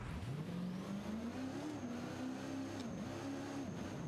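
A heavy, high-torque monster truck engine in the BeamNG Drive driving game drones and revs steadily, its pitch climbing and dipping through throttle changes, loud and continuous with no pauses.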